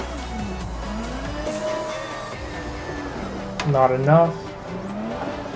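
Simulated JZX90 beater drifting in Assetto Corsa, its engine droning steadily with a rising squeal of tires sliding midway, while someone talks over the sound.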